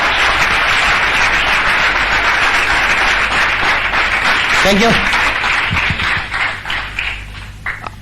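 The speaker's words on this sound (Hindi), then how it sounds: "जोरदार तालियों से स्वागत करेंगे" An audience at a business seminar applauds in a dense, steady burst of clapping that fades and breaks up toward the end, with a brief spoken thanks over it.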